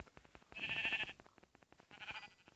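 Sheep in Minecraft bleat twice in quick succession, short wavering baas heard close but quietly over a faint crackly background, with no talking.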